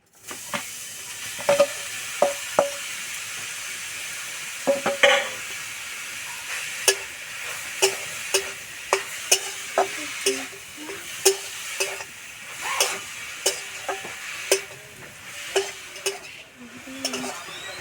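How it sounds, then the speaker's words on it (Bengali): Grated carrot for carrot halwa is stirred in a dry wok with no ghee or oil, a faint hiss under repeated sharp scrapes and taps of the spoon against the metal, close and fairly regular. "সব সময় এভাবে নাড়বো নাহলে তলাতে লেগে যাবে"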